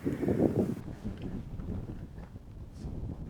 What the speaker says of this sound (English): Now there is some serious wind blowing out of this adit.